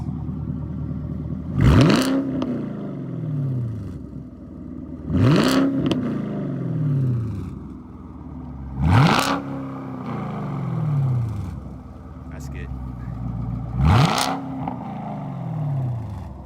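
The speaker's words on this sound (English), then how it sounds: "We're gonna get a little bit of a rev of the Camaro SS." A Chevrolet Camaro SS engine revs four times in a row, each sharp roaring burst rising then falling away, with idle rumble in between, close and loud.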